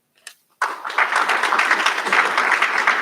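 Audience applause at a college recognition ceremony: after a brief quiet moment a full burst of clapping starts, then holds steady and dense for a few seconds, loud and close.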